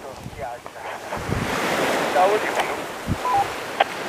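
Light sea breeze and gentle surf on the beach at Bonassola, a steady soft wash of waves and wind rumble buffeting the microphone throughout, with no voices.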